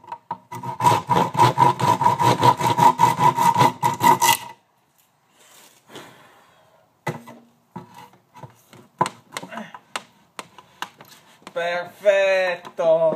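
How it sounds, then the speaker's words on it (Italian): A small hand saw cuts through PVC pipe in quick, rasping back-and-forth strokes for about four seconds, close and fairly loud. Quieter handling noises follow, with a brief voice near the end. "Poi col seghetto lo metto a posto."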